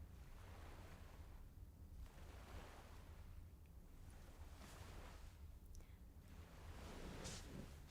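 Moving water heard faintly, a soft rolling wash that swells and recedes in slow surges, wind-like and distant.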